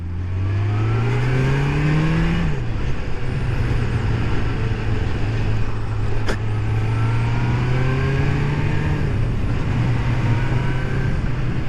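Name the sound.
Kawasaki GPZ600R motorcycle accelerating in second gear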